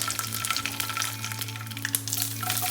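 Curry leaves and fennel seeds, added after mustard seeds, sizzle in hot oil for an egg gravy, a steady close crackling hiss with sharp pops scattered throughout and no talking.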